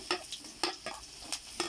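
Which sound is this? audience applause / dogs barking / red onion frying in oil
red onion frying in oil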